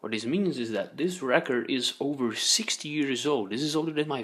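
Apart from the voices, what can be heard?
No distinct noise like a dog, phone or traffic.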